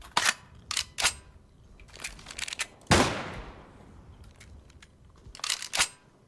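Weapon reloads in the game CS:GO, a string of sharp mechanical clicks and clacks in quick bursts, with one louder metallic snap partway through, close and crisp against a quiet background.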